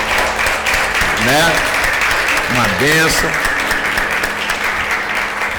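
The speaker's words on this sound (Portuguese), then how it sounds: "Eu queria que a gente aplaudisse os jovens adolescentes aí da igreja" Church congregation applauding the young adolescents at a communion service, loud continuous clapping throughout, with a voice speaking briefly over it.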